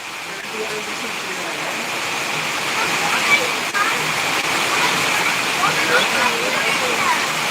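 Heavy rain pours down steadily in Madurai, a dense continuous hiss with a rushing, waterfall-like wash throughout, loud and close with no breaks.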